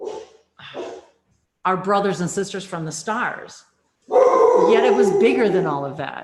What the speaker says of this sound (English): excuse my dog, the doorbell rang.